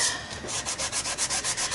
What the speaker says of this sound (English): We're going to give it a little bit of sanding just to take some of that glaze